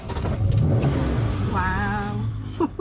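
Restored Aston Martin James Bond car, rusted for years and now driven again, its engine running steadily with a rising rev partway through, close and fairly loud throughout.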